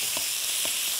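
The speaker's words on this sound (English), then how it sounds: "And just keep stir frying." Pork sizzles loudly in a hot pan during stir frying, a dense, continuous hiss with a couple of soft scraping stirs.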